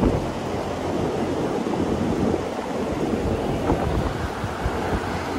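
Wind swirls and rushes steadily inside a modified closed broiler chicken house, a broad continuous roar with gusty surges throughout and no talking.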